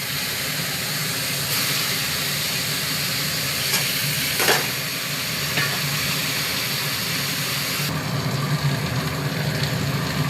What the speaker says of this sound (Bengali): তেল আমার গরম হয়ে গেছে, এবারে আলুগুলোকে ছেড়ে দেবো।